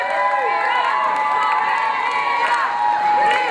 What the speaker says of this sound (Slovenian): ta čas bojo navijači še malo vas spodbudili